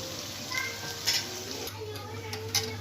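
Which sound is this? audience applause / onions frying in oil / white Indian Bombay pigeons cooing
onions frying in oil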